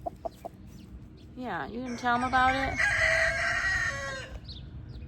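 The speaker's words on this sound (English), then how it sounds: "This is my rooster and the neighbor's rooster, my other rooster." Two backyard homestead roosters crow back and forth, one long cock-a-doodle-doo answered by a second, loud and close, with brief talk from people nearby just before.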